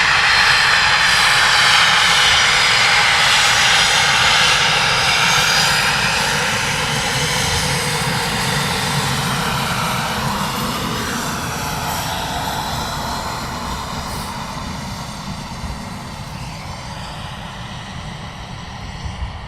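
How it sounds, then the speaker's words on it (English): Four RAF Typhoon fighter jets at RAF Coningsby sit with engines running before departure, a loud steady turbine roar with a high whine that fills the whole stretch and eases slightly toward the end. "So we have 4 Typhoons at the bottom waiting for departure"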